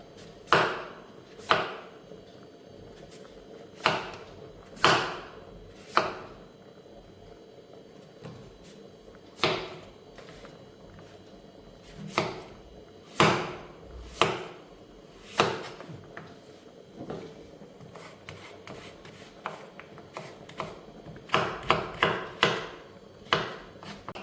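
A knife chops pumpkin on a board for Kerala-style thoran with about twenty sharp, close, separate knocks at uneven intervals, the cuts coming faster and closer together near the end, with no one talking.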